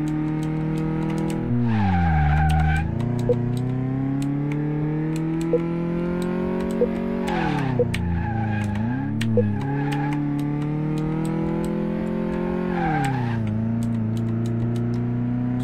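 A car engine drones and revs with pitch sweeping up and down, broken by repeated tire skids, steady and close throughout, in the video game Car Mechanic Simulator 2018.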